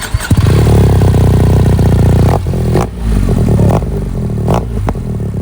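A Suzuki GSX 1000 motorcycle with a full aftermarket exhaust system revs loud and close, with a rough burbling idle broken by several sharp throttle blips and crackling dips.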